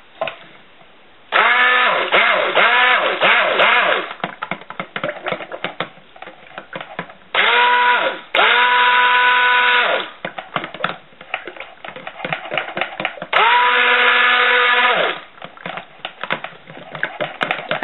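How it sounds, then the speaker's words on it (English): A stick blender whirs through liquid soap batter in three loud bursts of a few seconds each. Quieter clicks and handling noise fill the gaps between bursts. "I'm going to stick blend it a bit"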